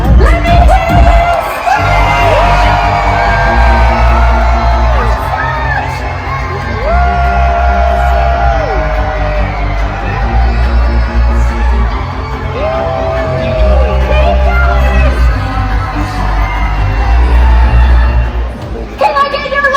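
Large crowd of children and adults on a Disney Fantasy cruise ship during Pixar Day at Sea, screaming, cheering and whooping together in a loud, sustained roar, with music playing underneath throughout.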